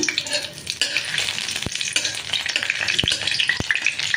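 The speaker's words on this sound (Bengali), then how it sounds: "প্রথমেই আমি গরম মশলা, তেজপাতা ফোড়নে দিয়ে দিলাম।" Garam masala and bay leaves fry in hot oil, giving a steady, close sizzle broken by a few sharp pops and clicks.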